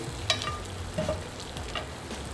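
Meat sizzling in a tilted pan as melted butter with thyme and garlic is spooned over it, a steady close fry crackle with soft scraping and a few louder spits.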